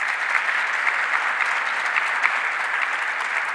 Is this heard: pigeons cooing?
no